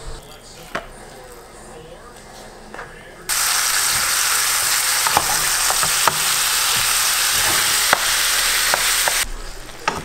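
85-15 ground turkey hits hot grapeseed oil in a skillet and sizzles loudly and steadily for several seconds after a quieter start, with occasional stirring scrapes and clicks.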